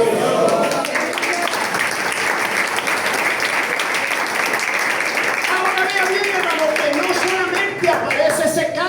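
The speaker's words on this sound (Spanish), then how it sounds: "Den un aplauso" Congregation applause fills a church during a sermon, a continuous, fairly loud round of clapping with voices rising over it, cheering or speaking, toward the end.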